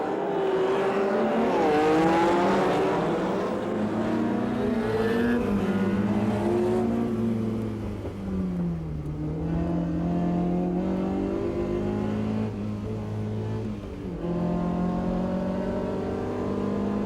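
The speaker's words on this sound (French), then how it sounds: "Jean Ragnotti va tenter de porter sa petite Alpine aux avant-postes dès le début de la course. Regardez son départ, c'est du grand art." Jean Ragnotti's small Alpine race car launches from the start of a Tour Auto 2004 race, its engine revving hard and climbing through the gears. Loud and sustained from the outset, with pitch sweeps as it accelerates and shifts.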